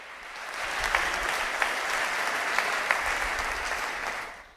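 Church congregation applauding during Portuguese-language preaching: a steady, dense wash of clapping that holds at an even level throughout, with a few sharper individual claps standing out, and no voices.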